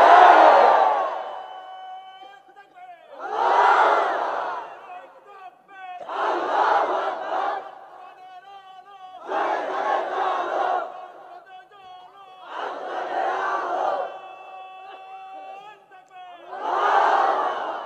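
A large crowd chants the takbir in unison at a Bangladeshi Islamic religious gathering, a loud call-and-response pattern of about six surging roars spaced roughly three seconds apart, each swelling and fading into the next.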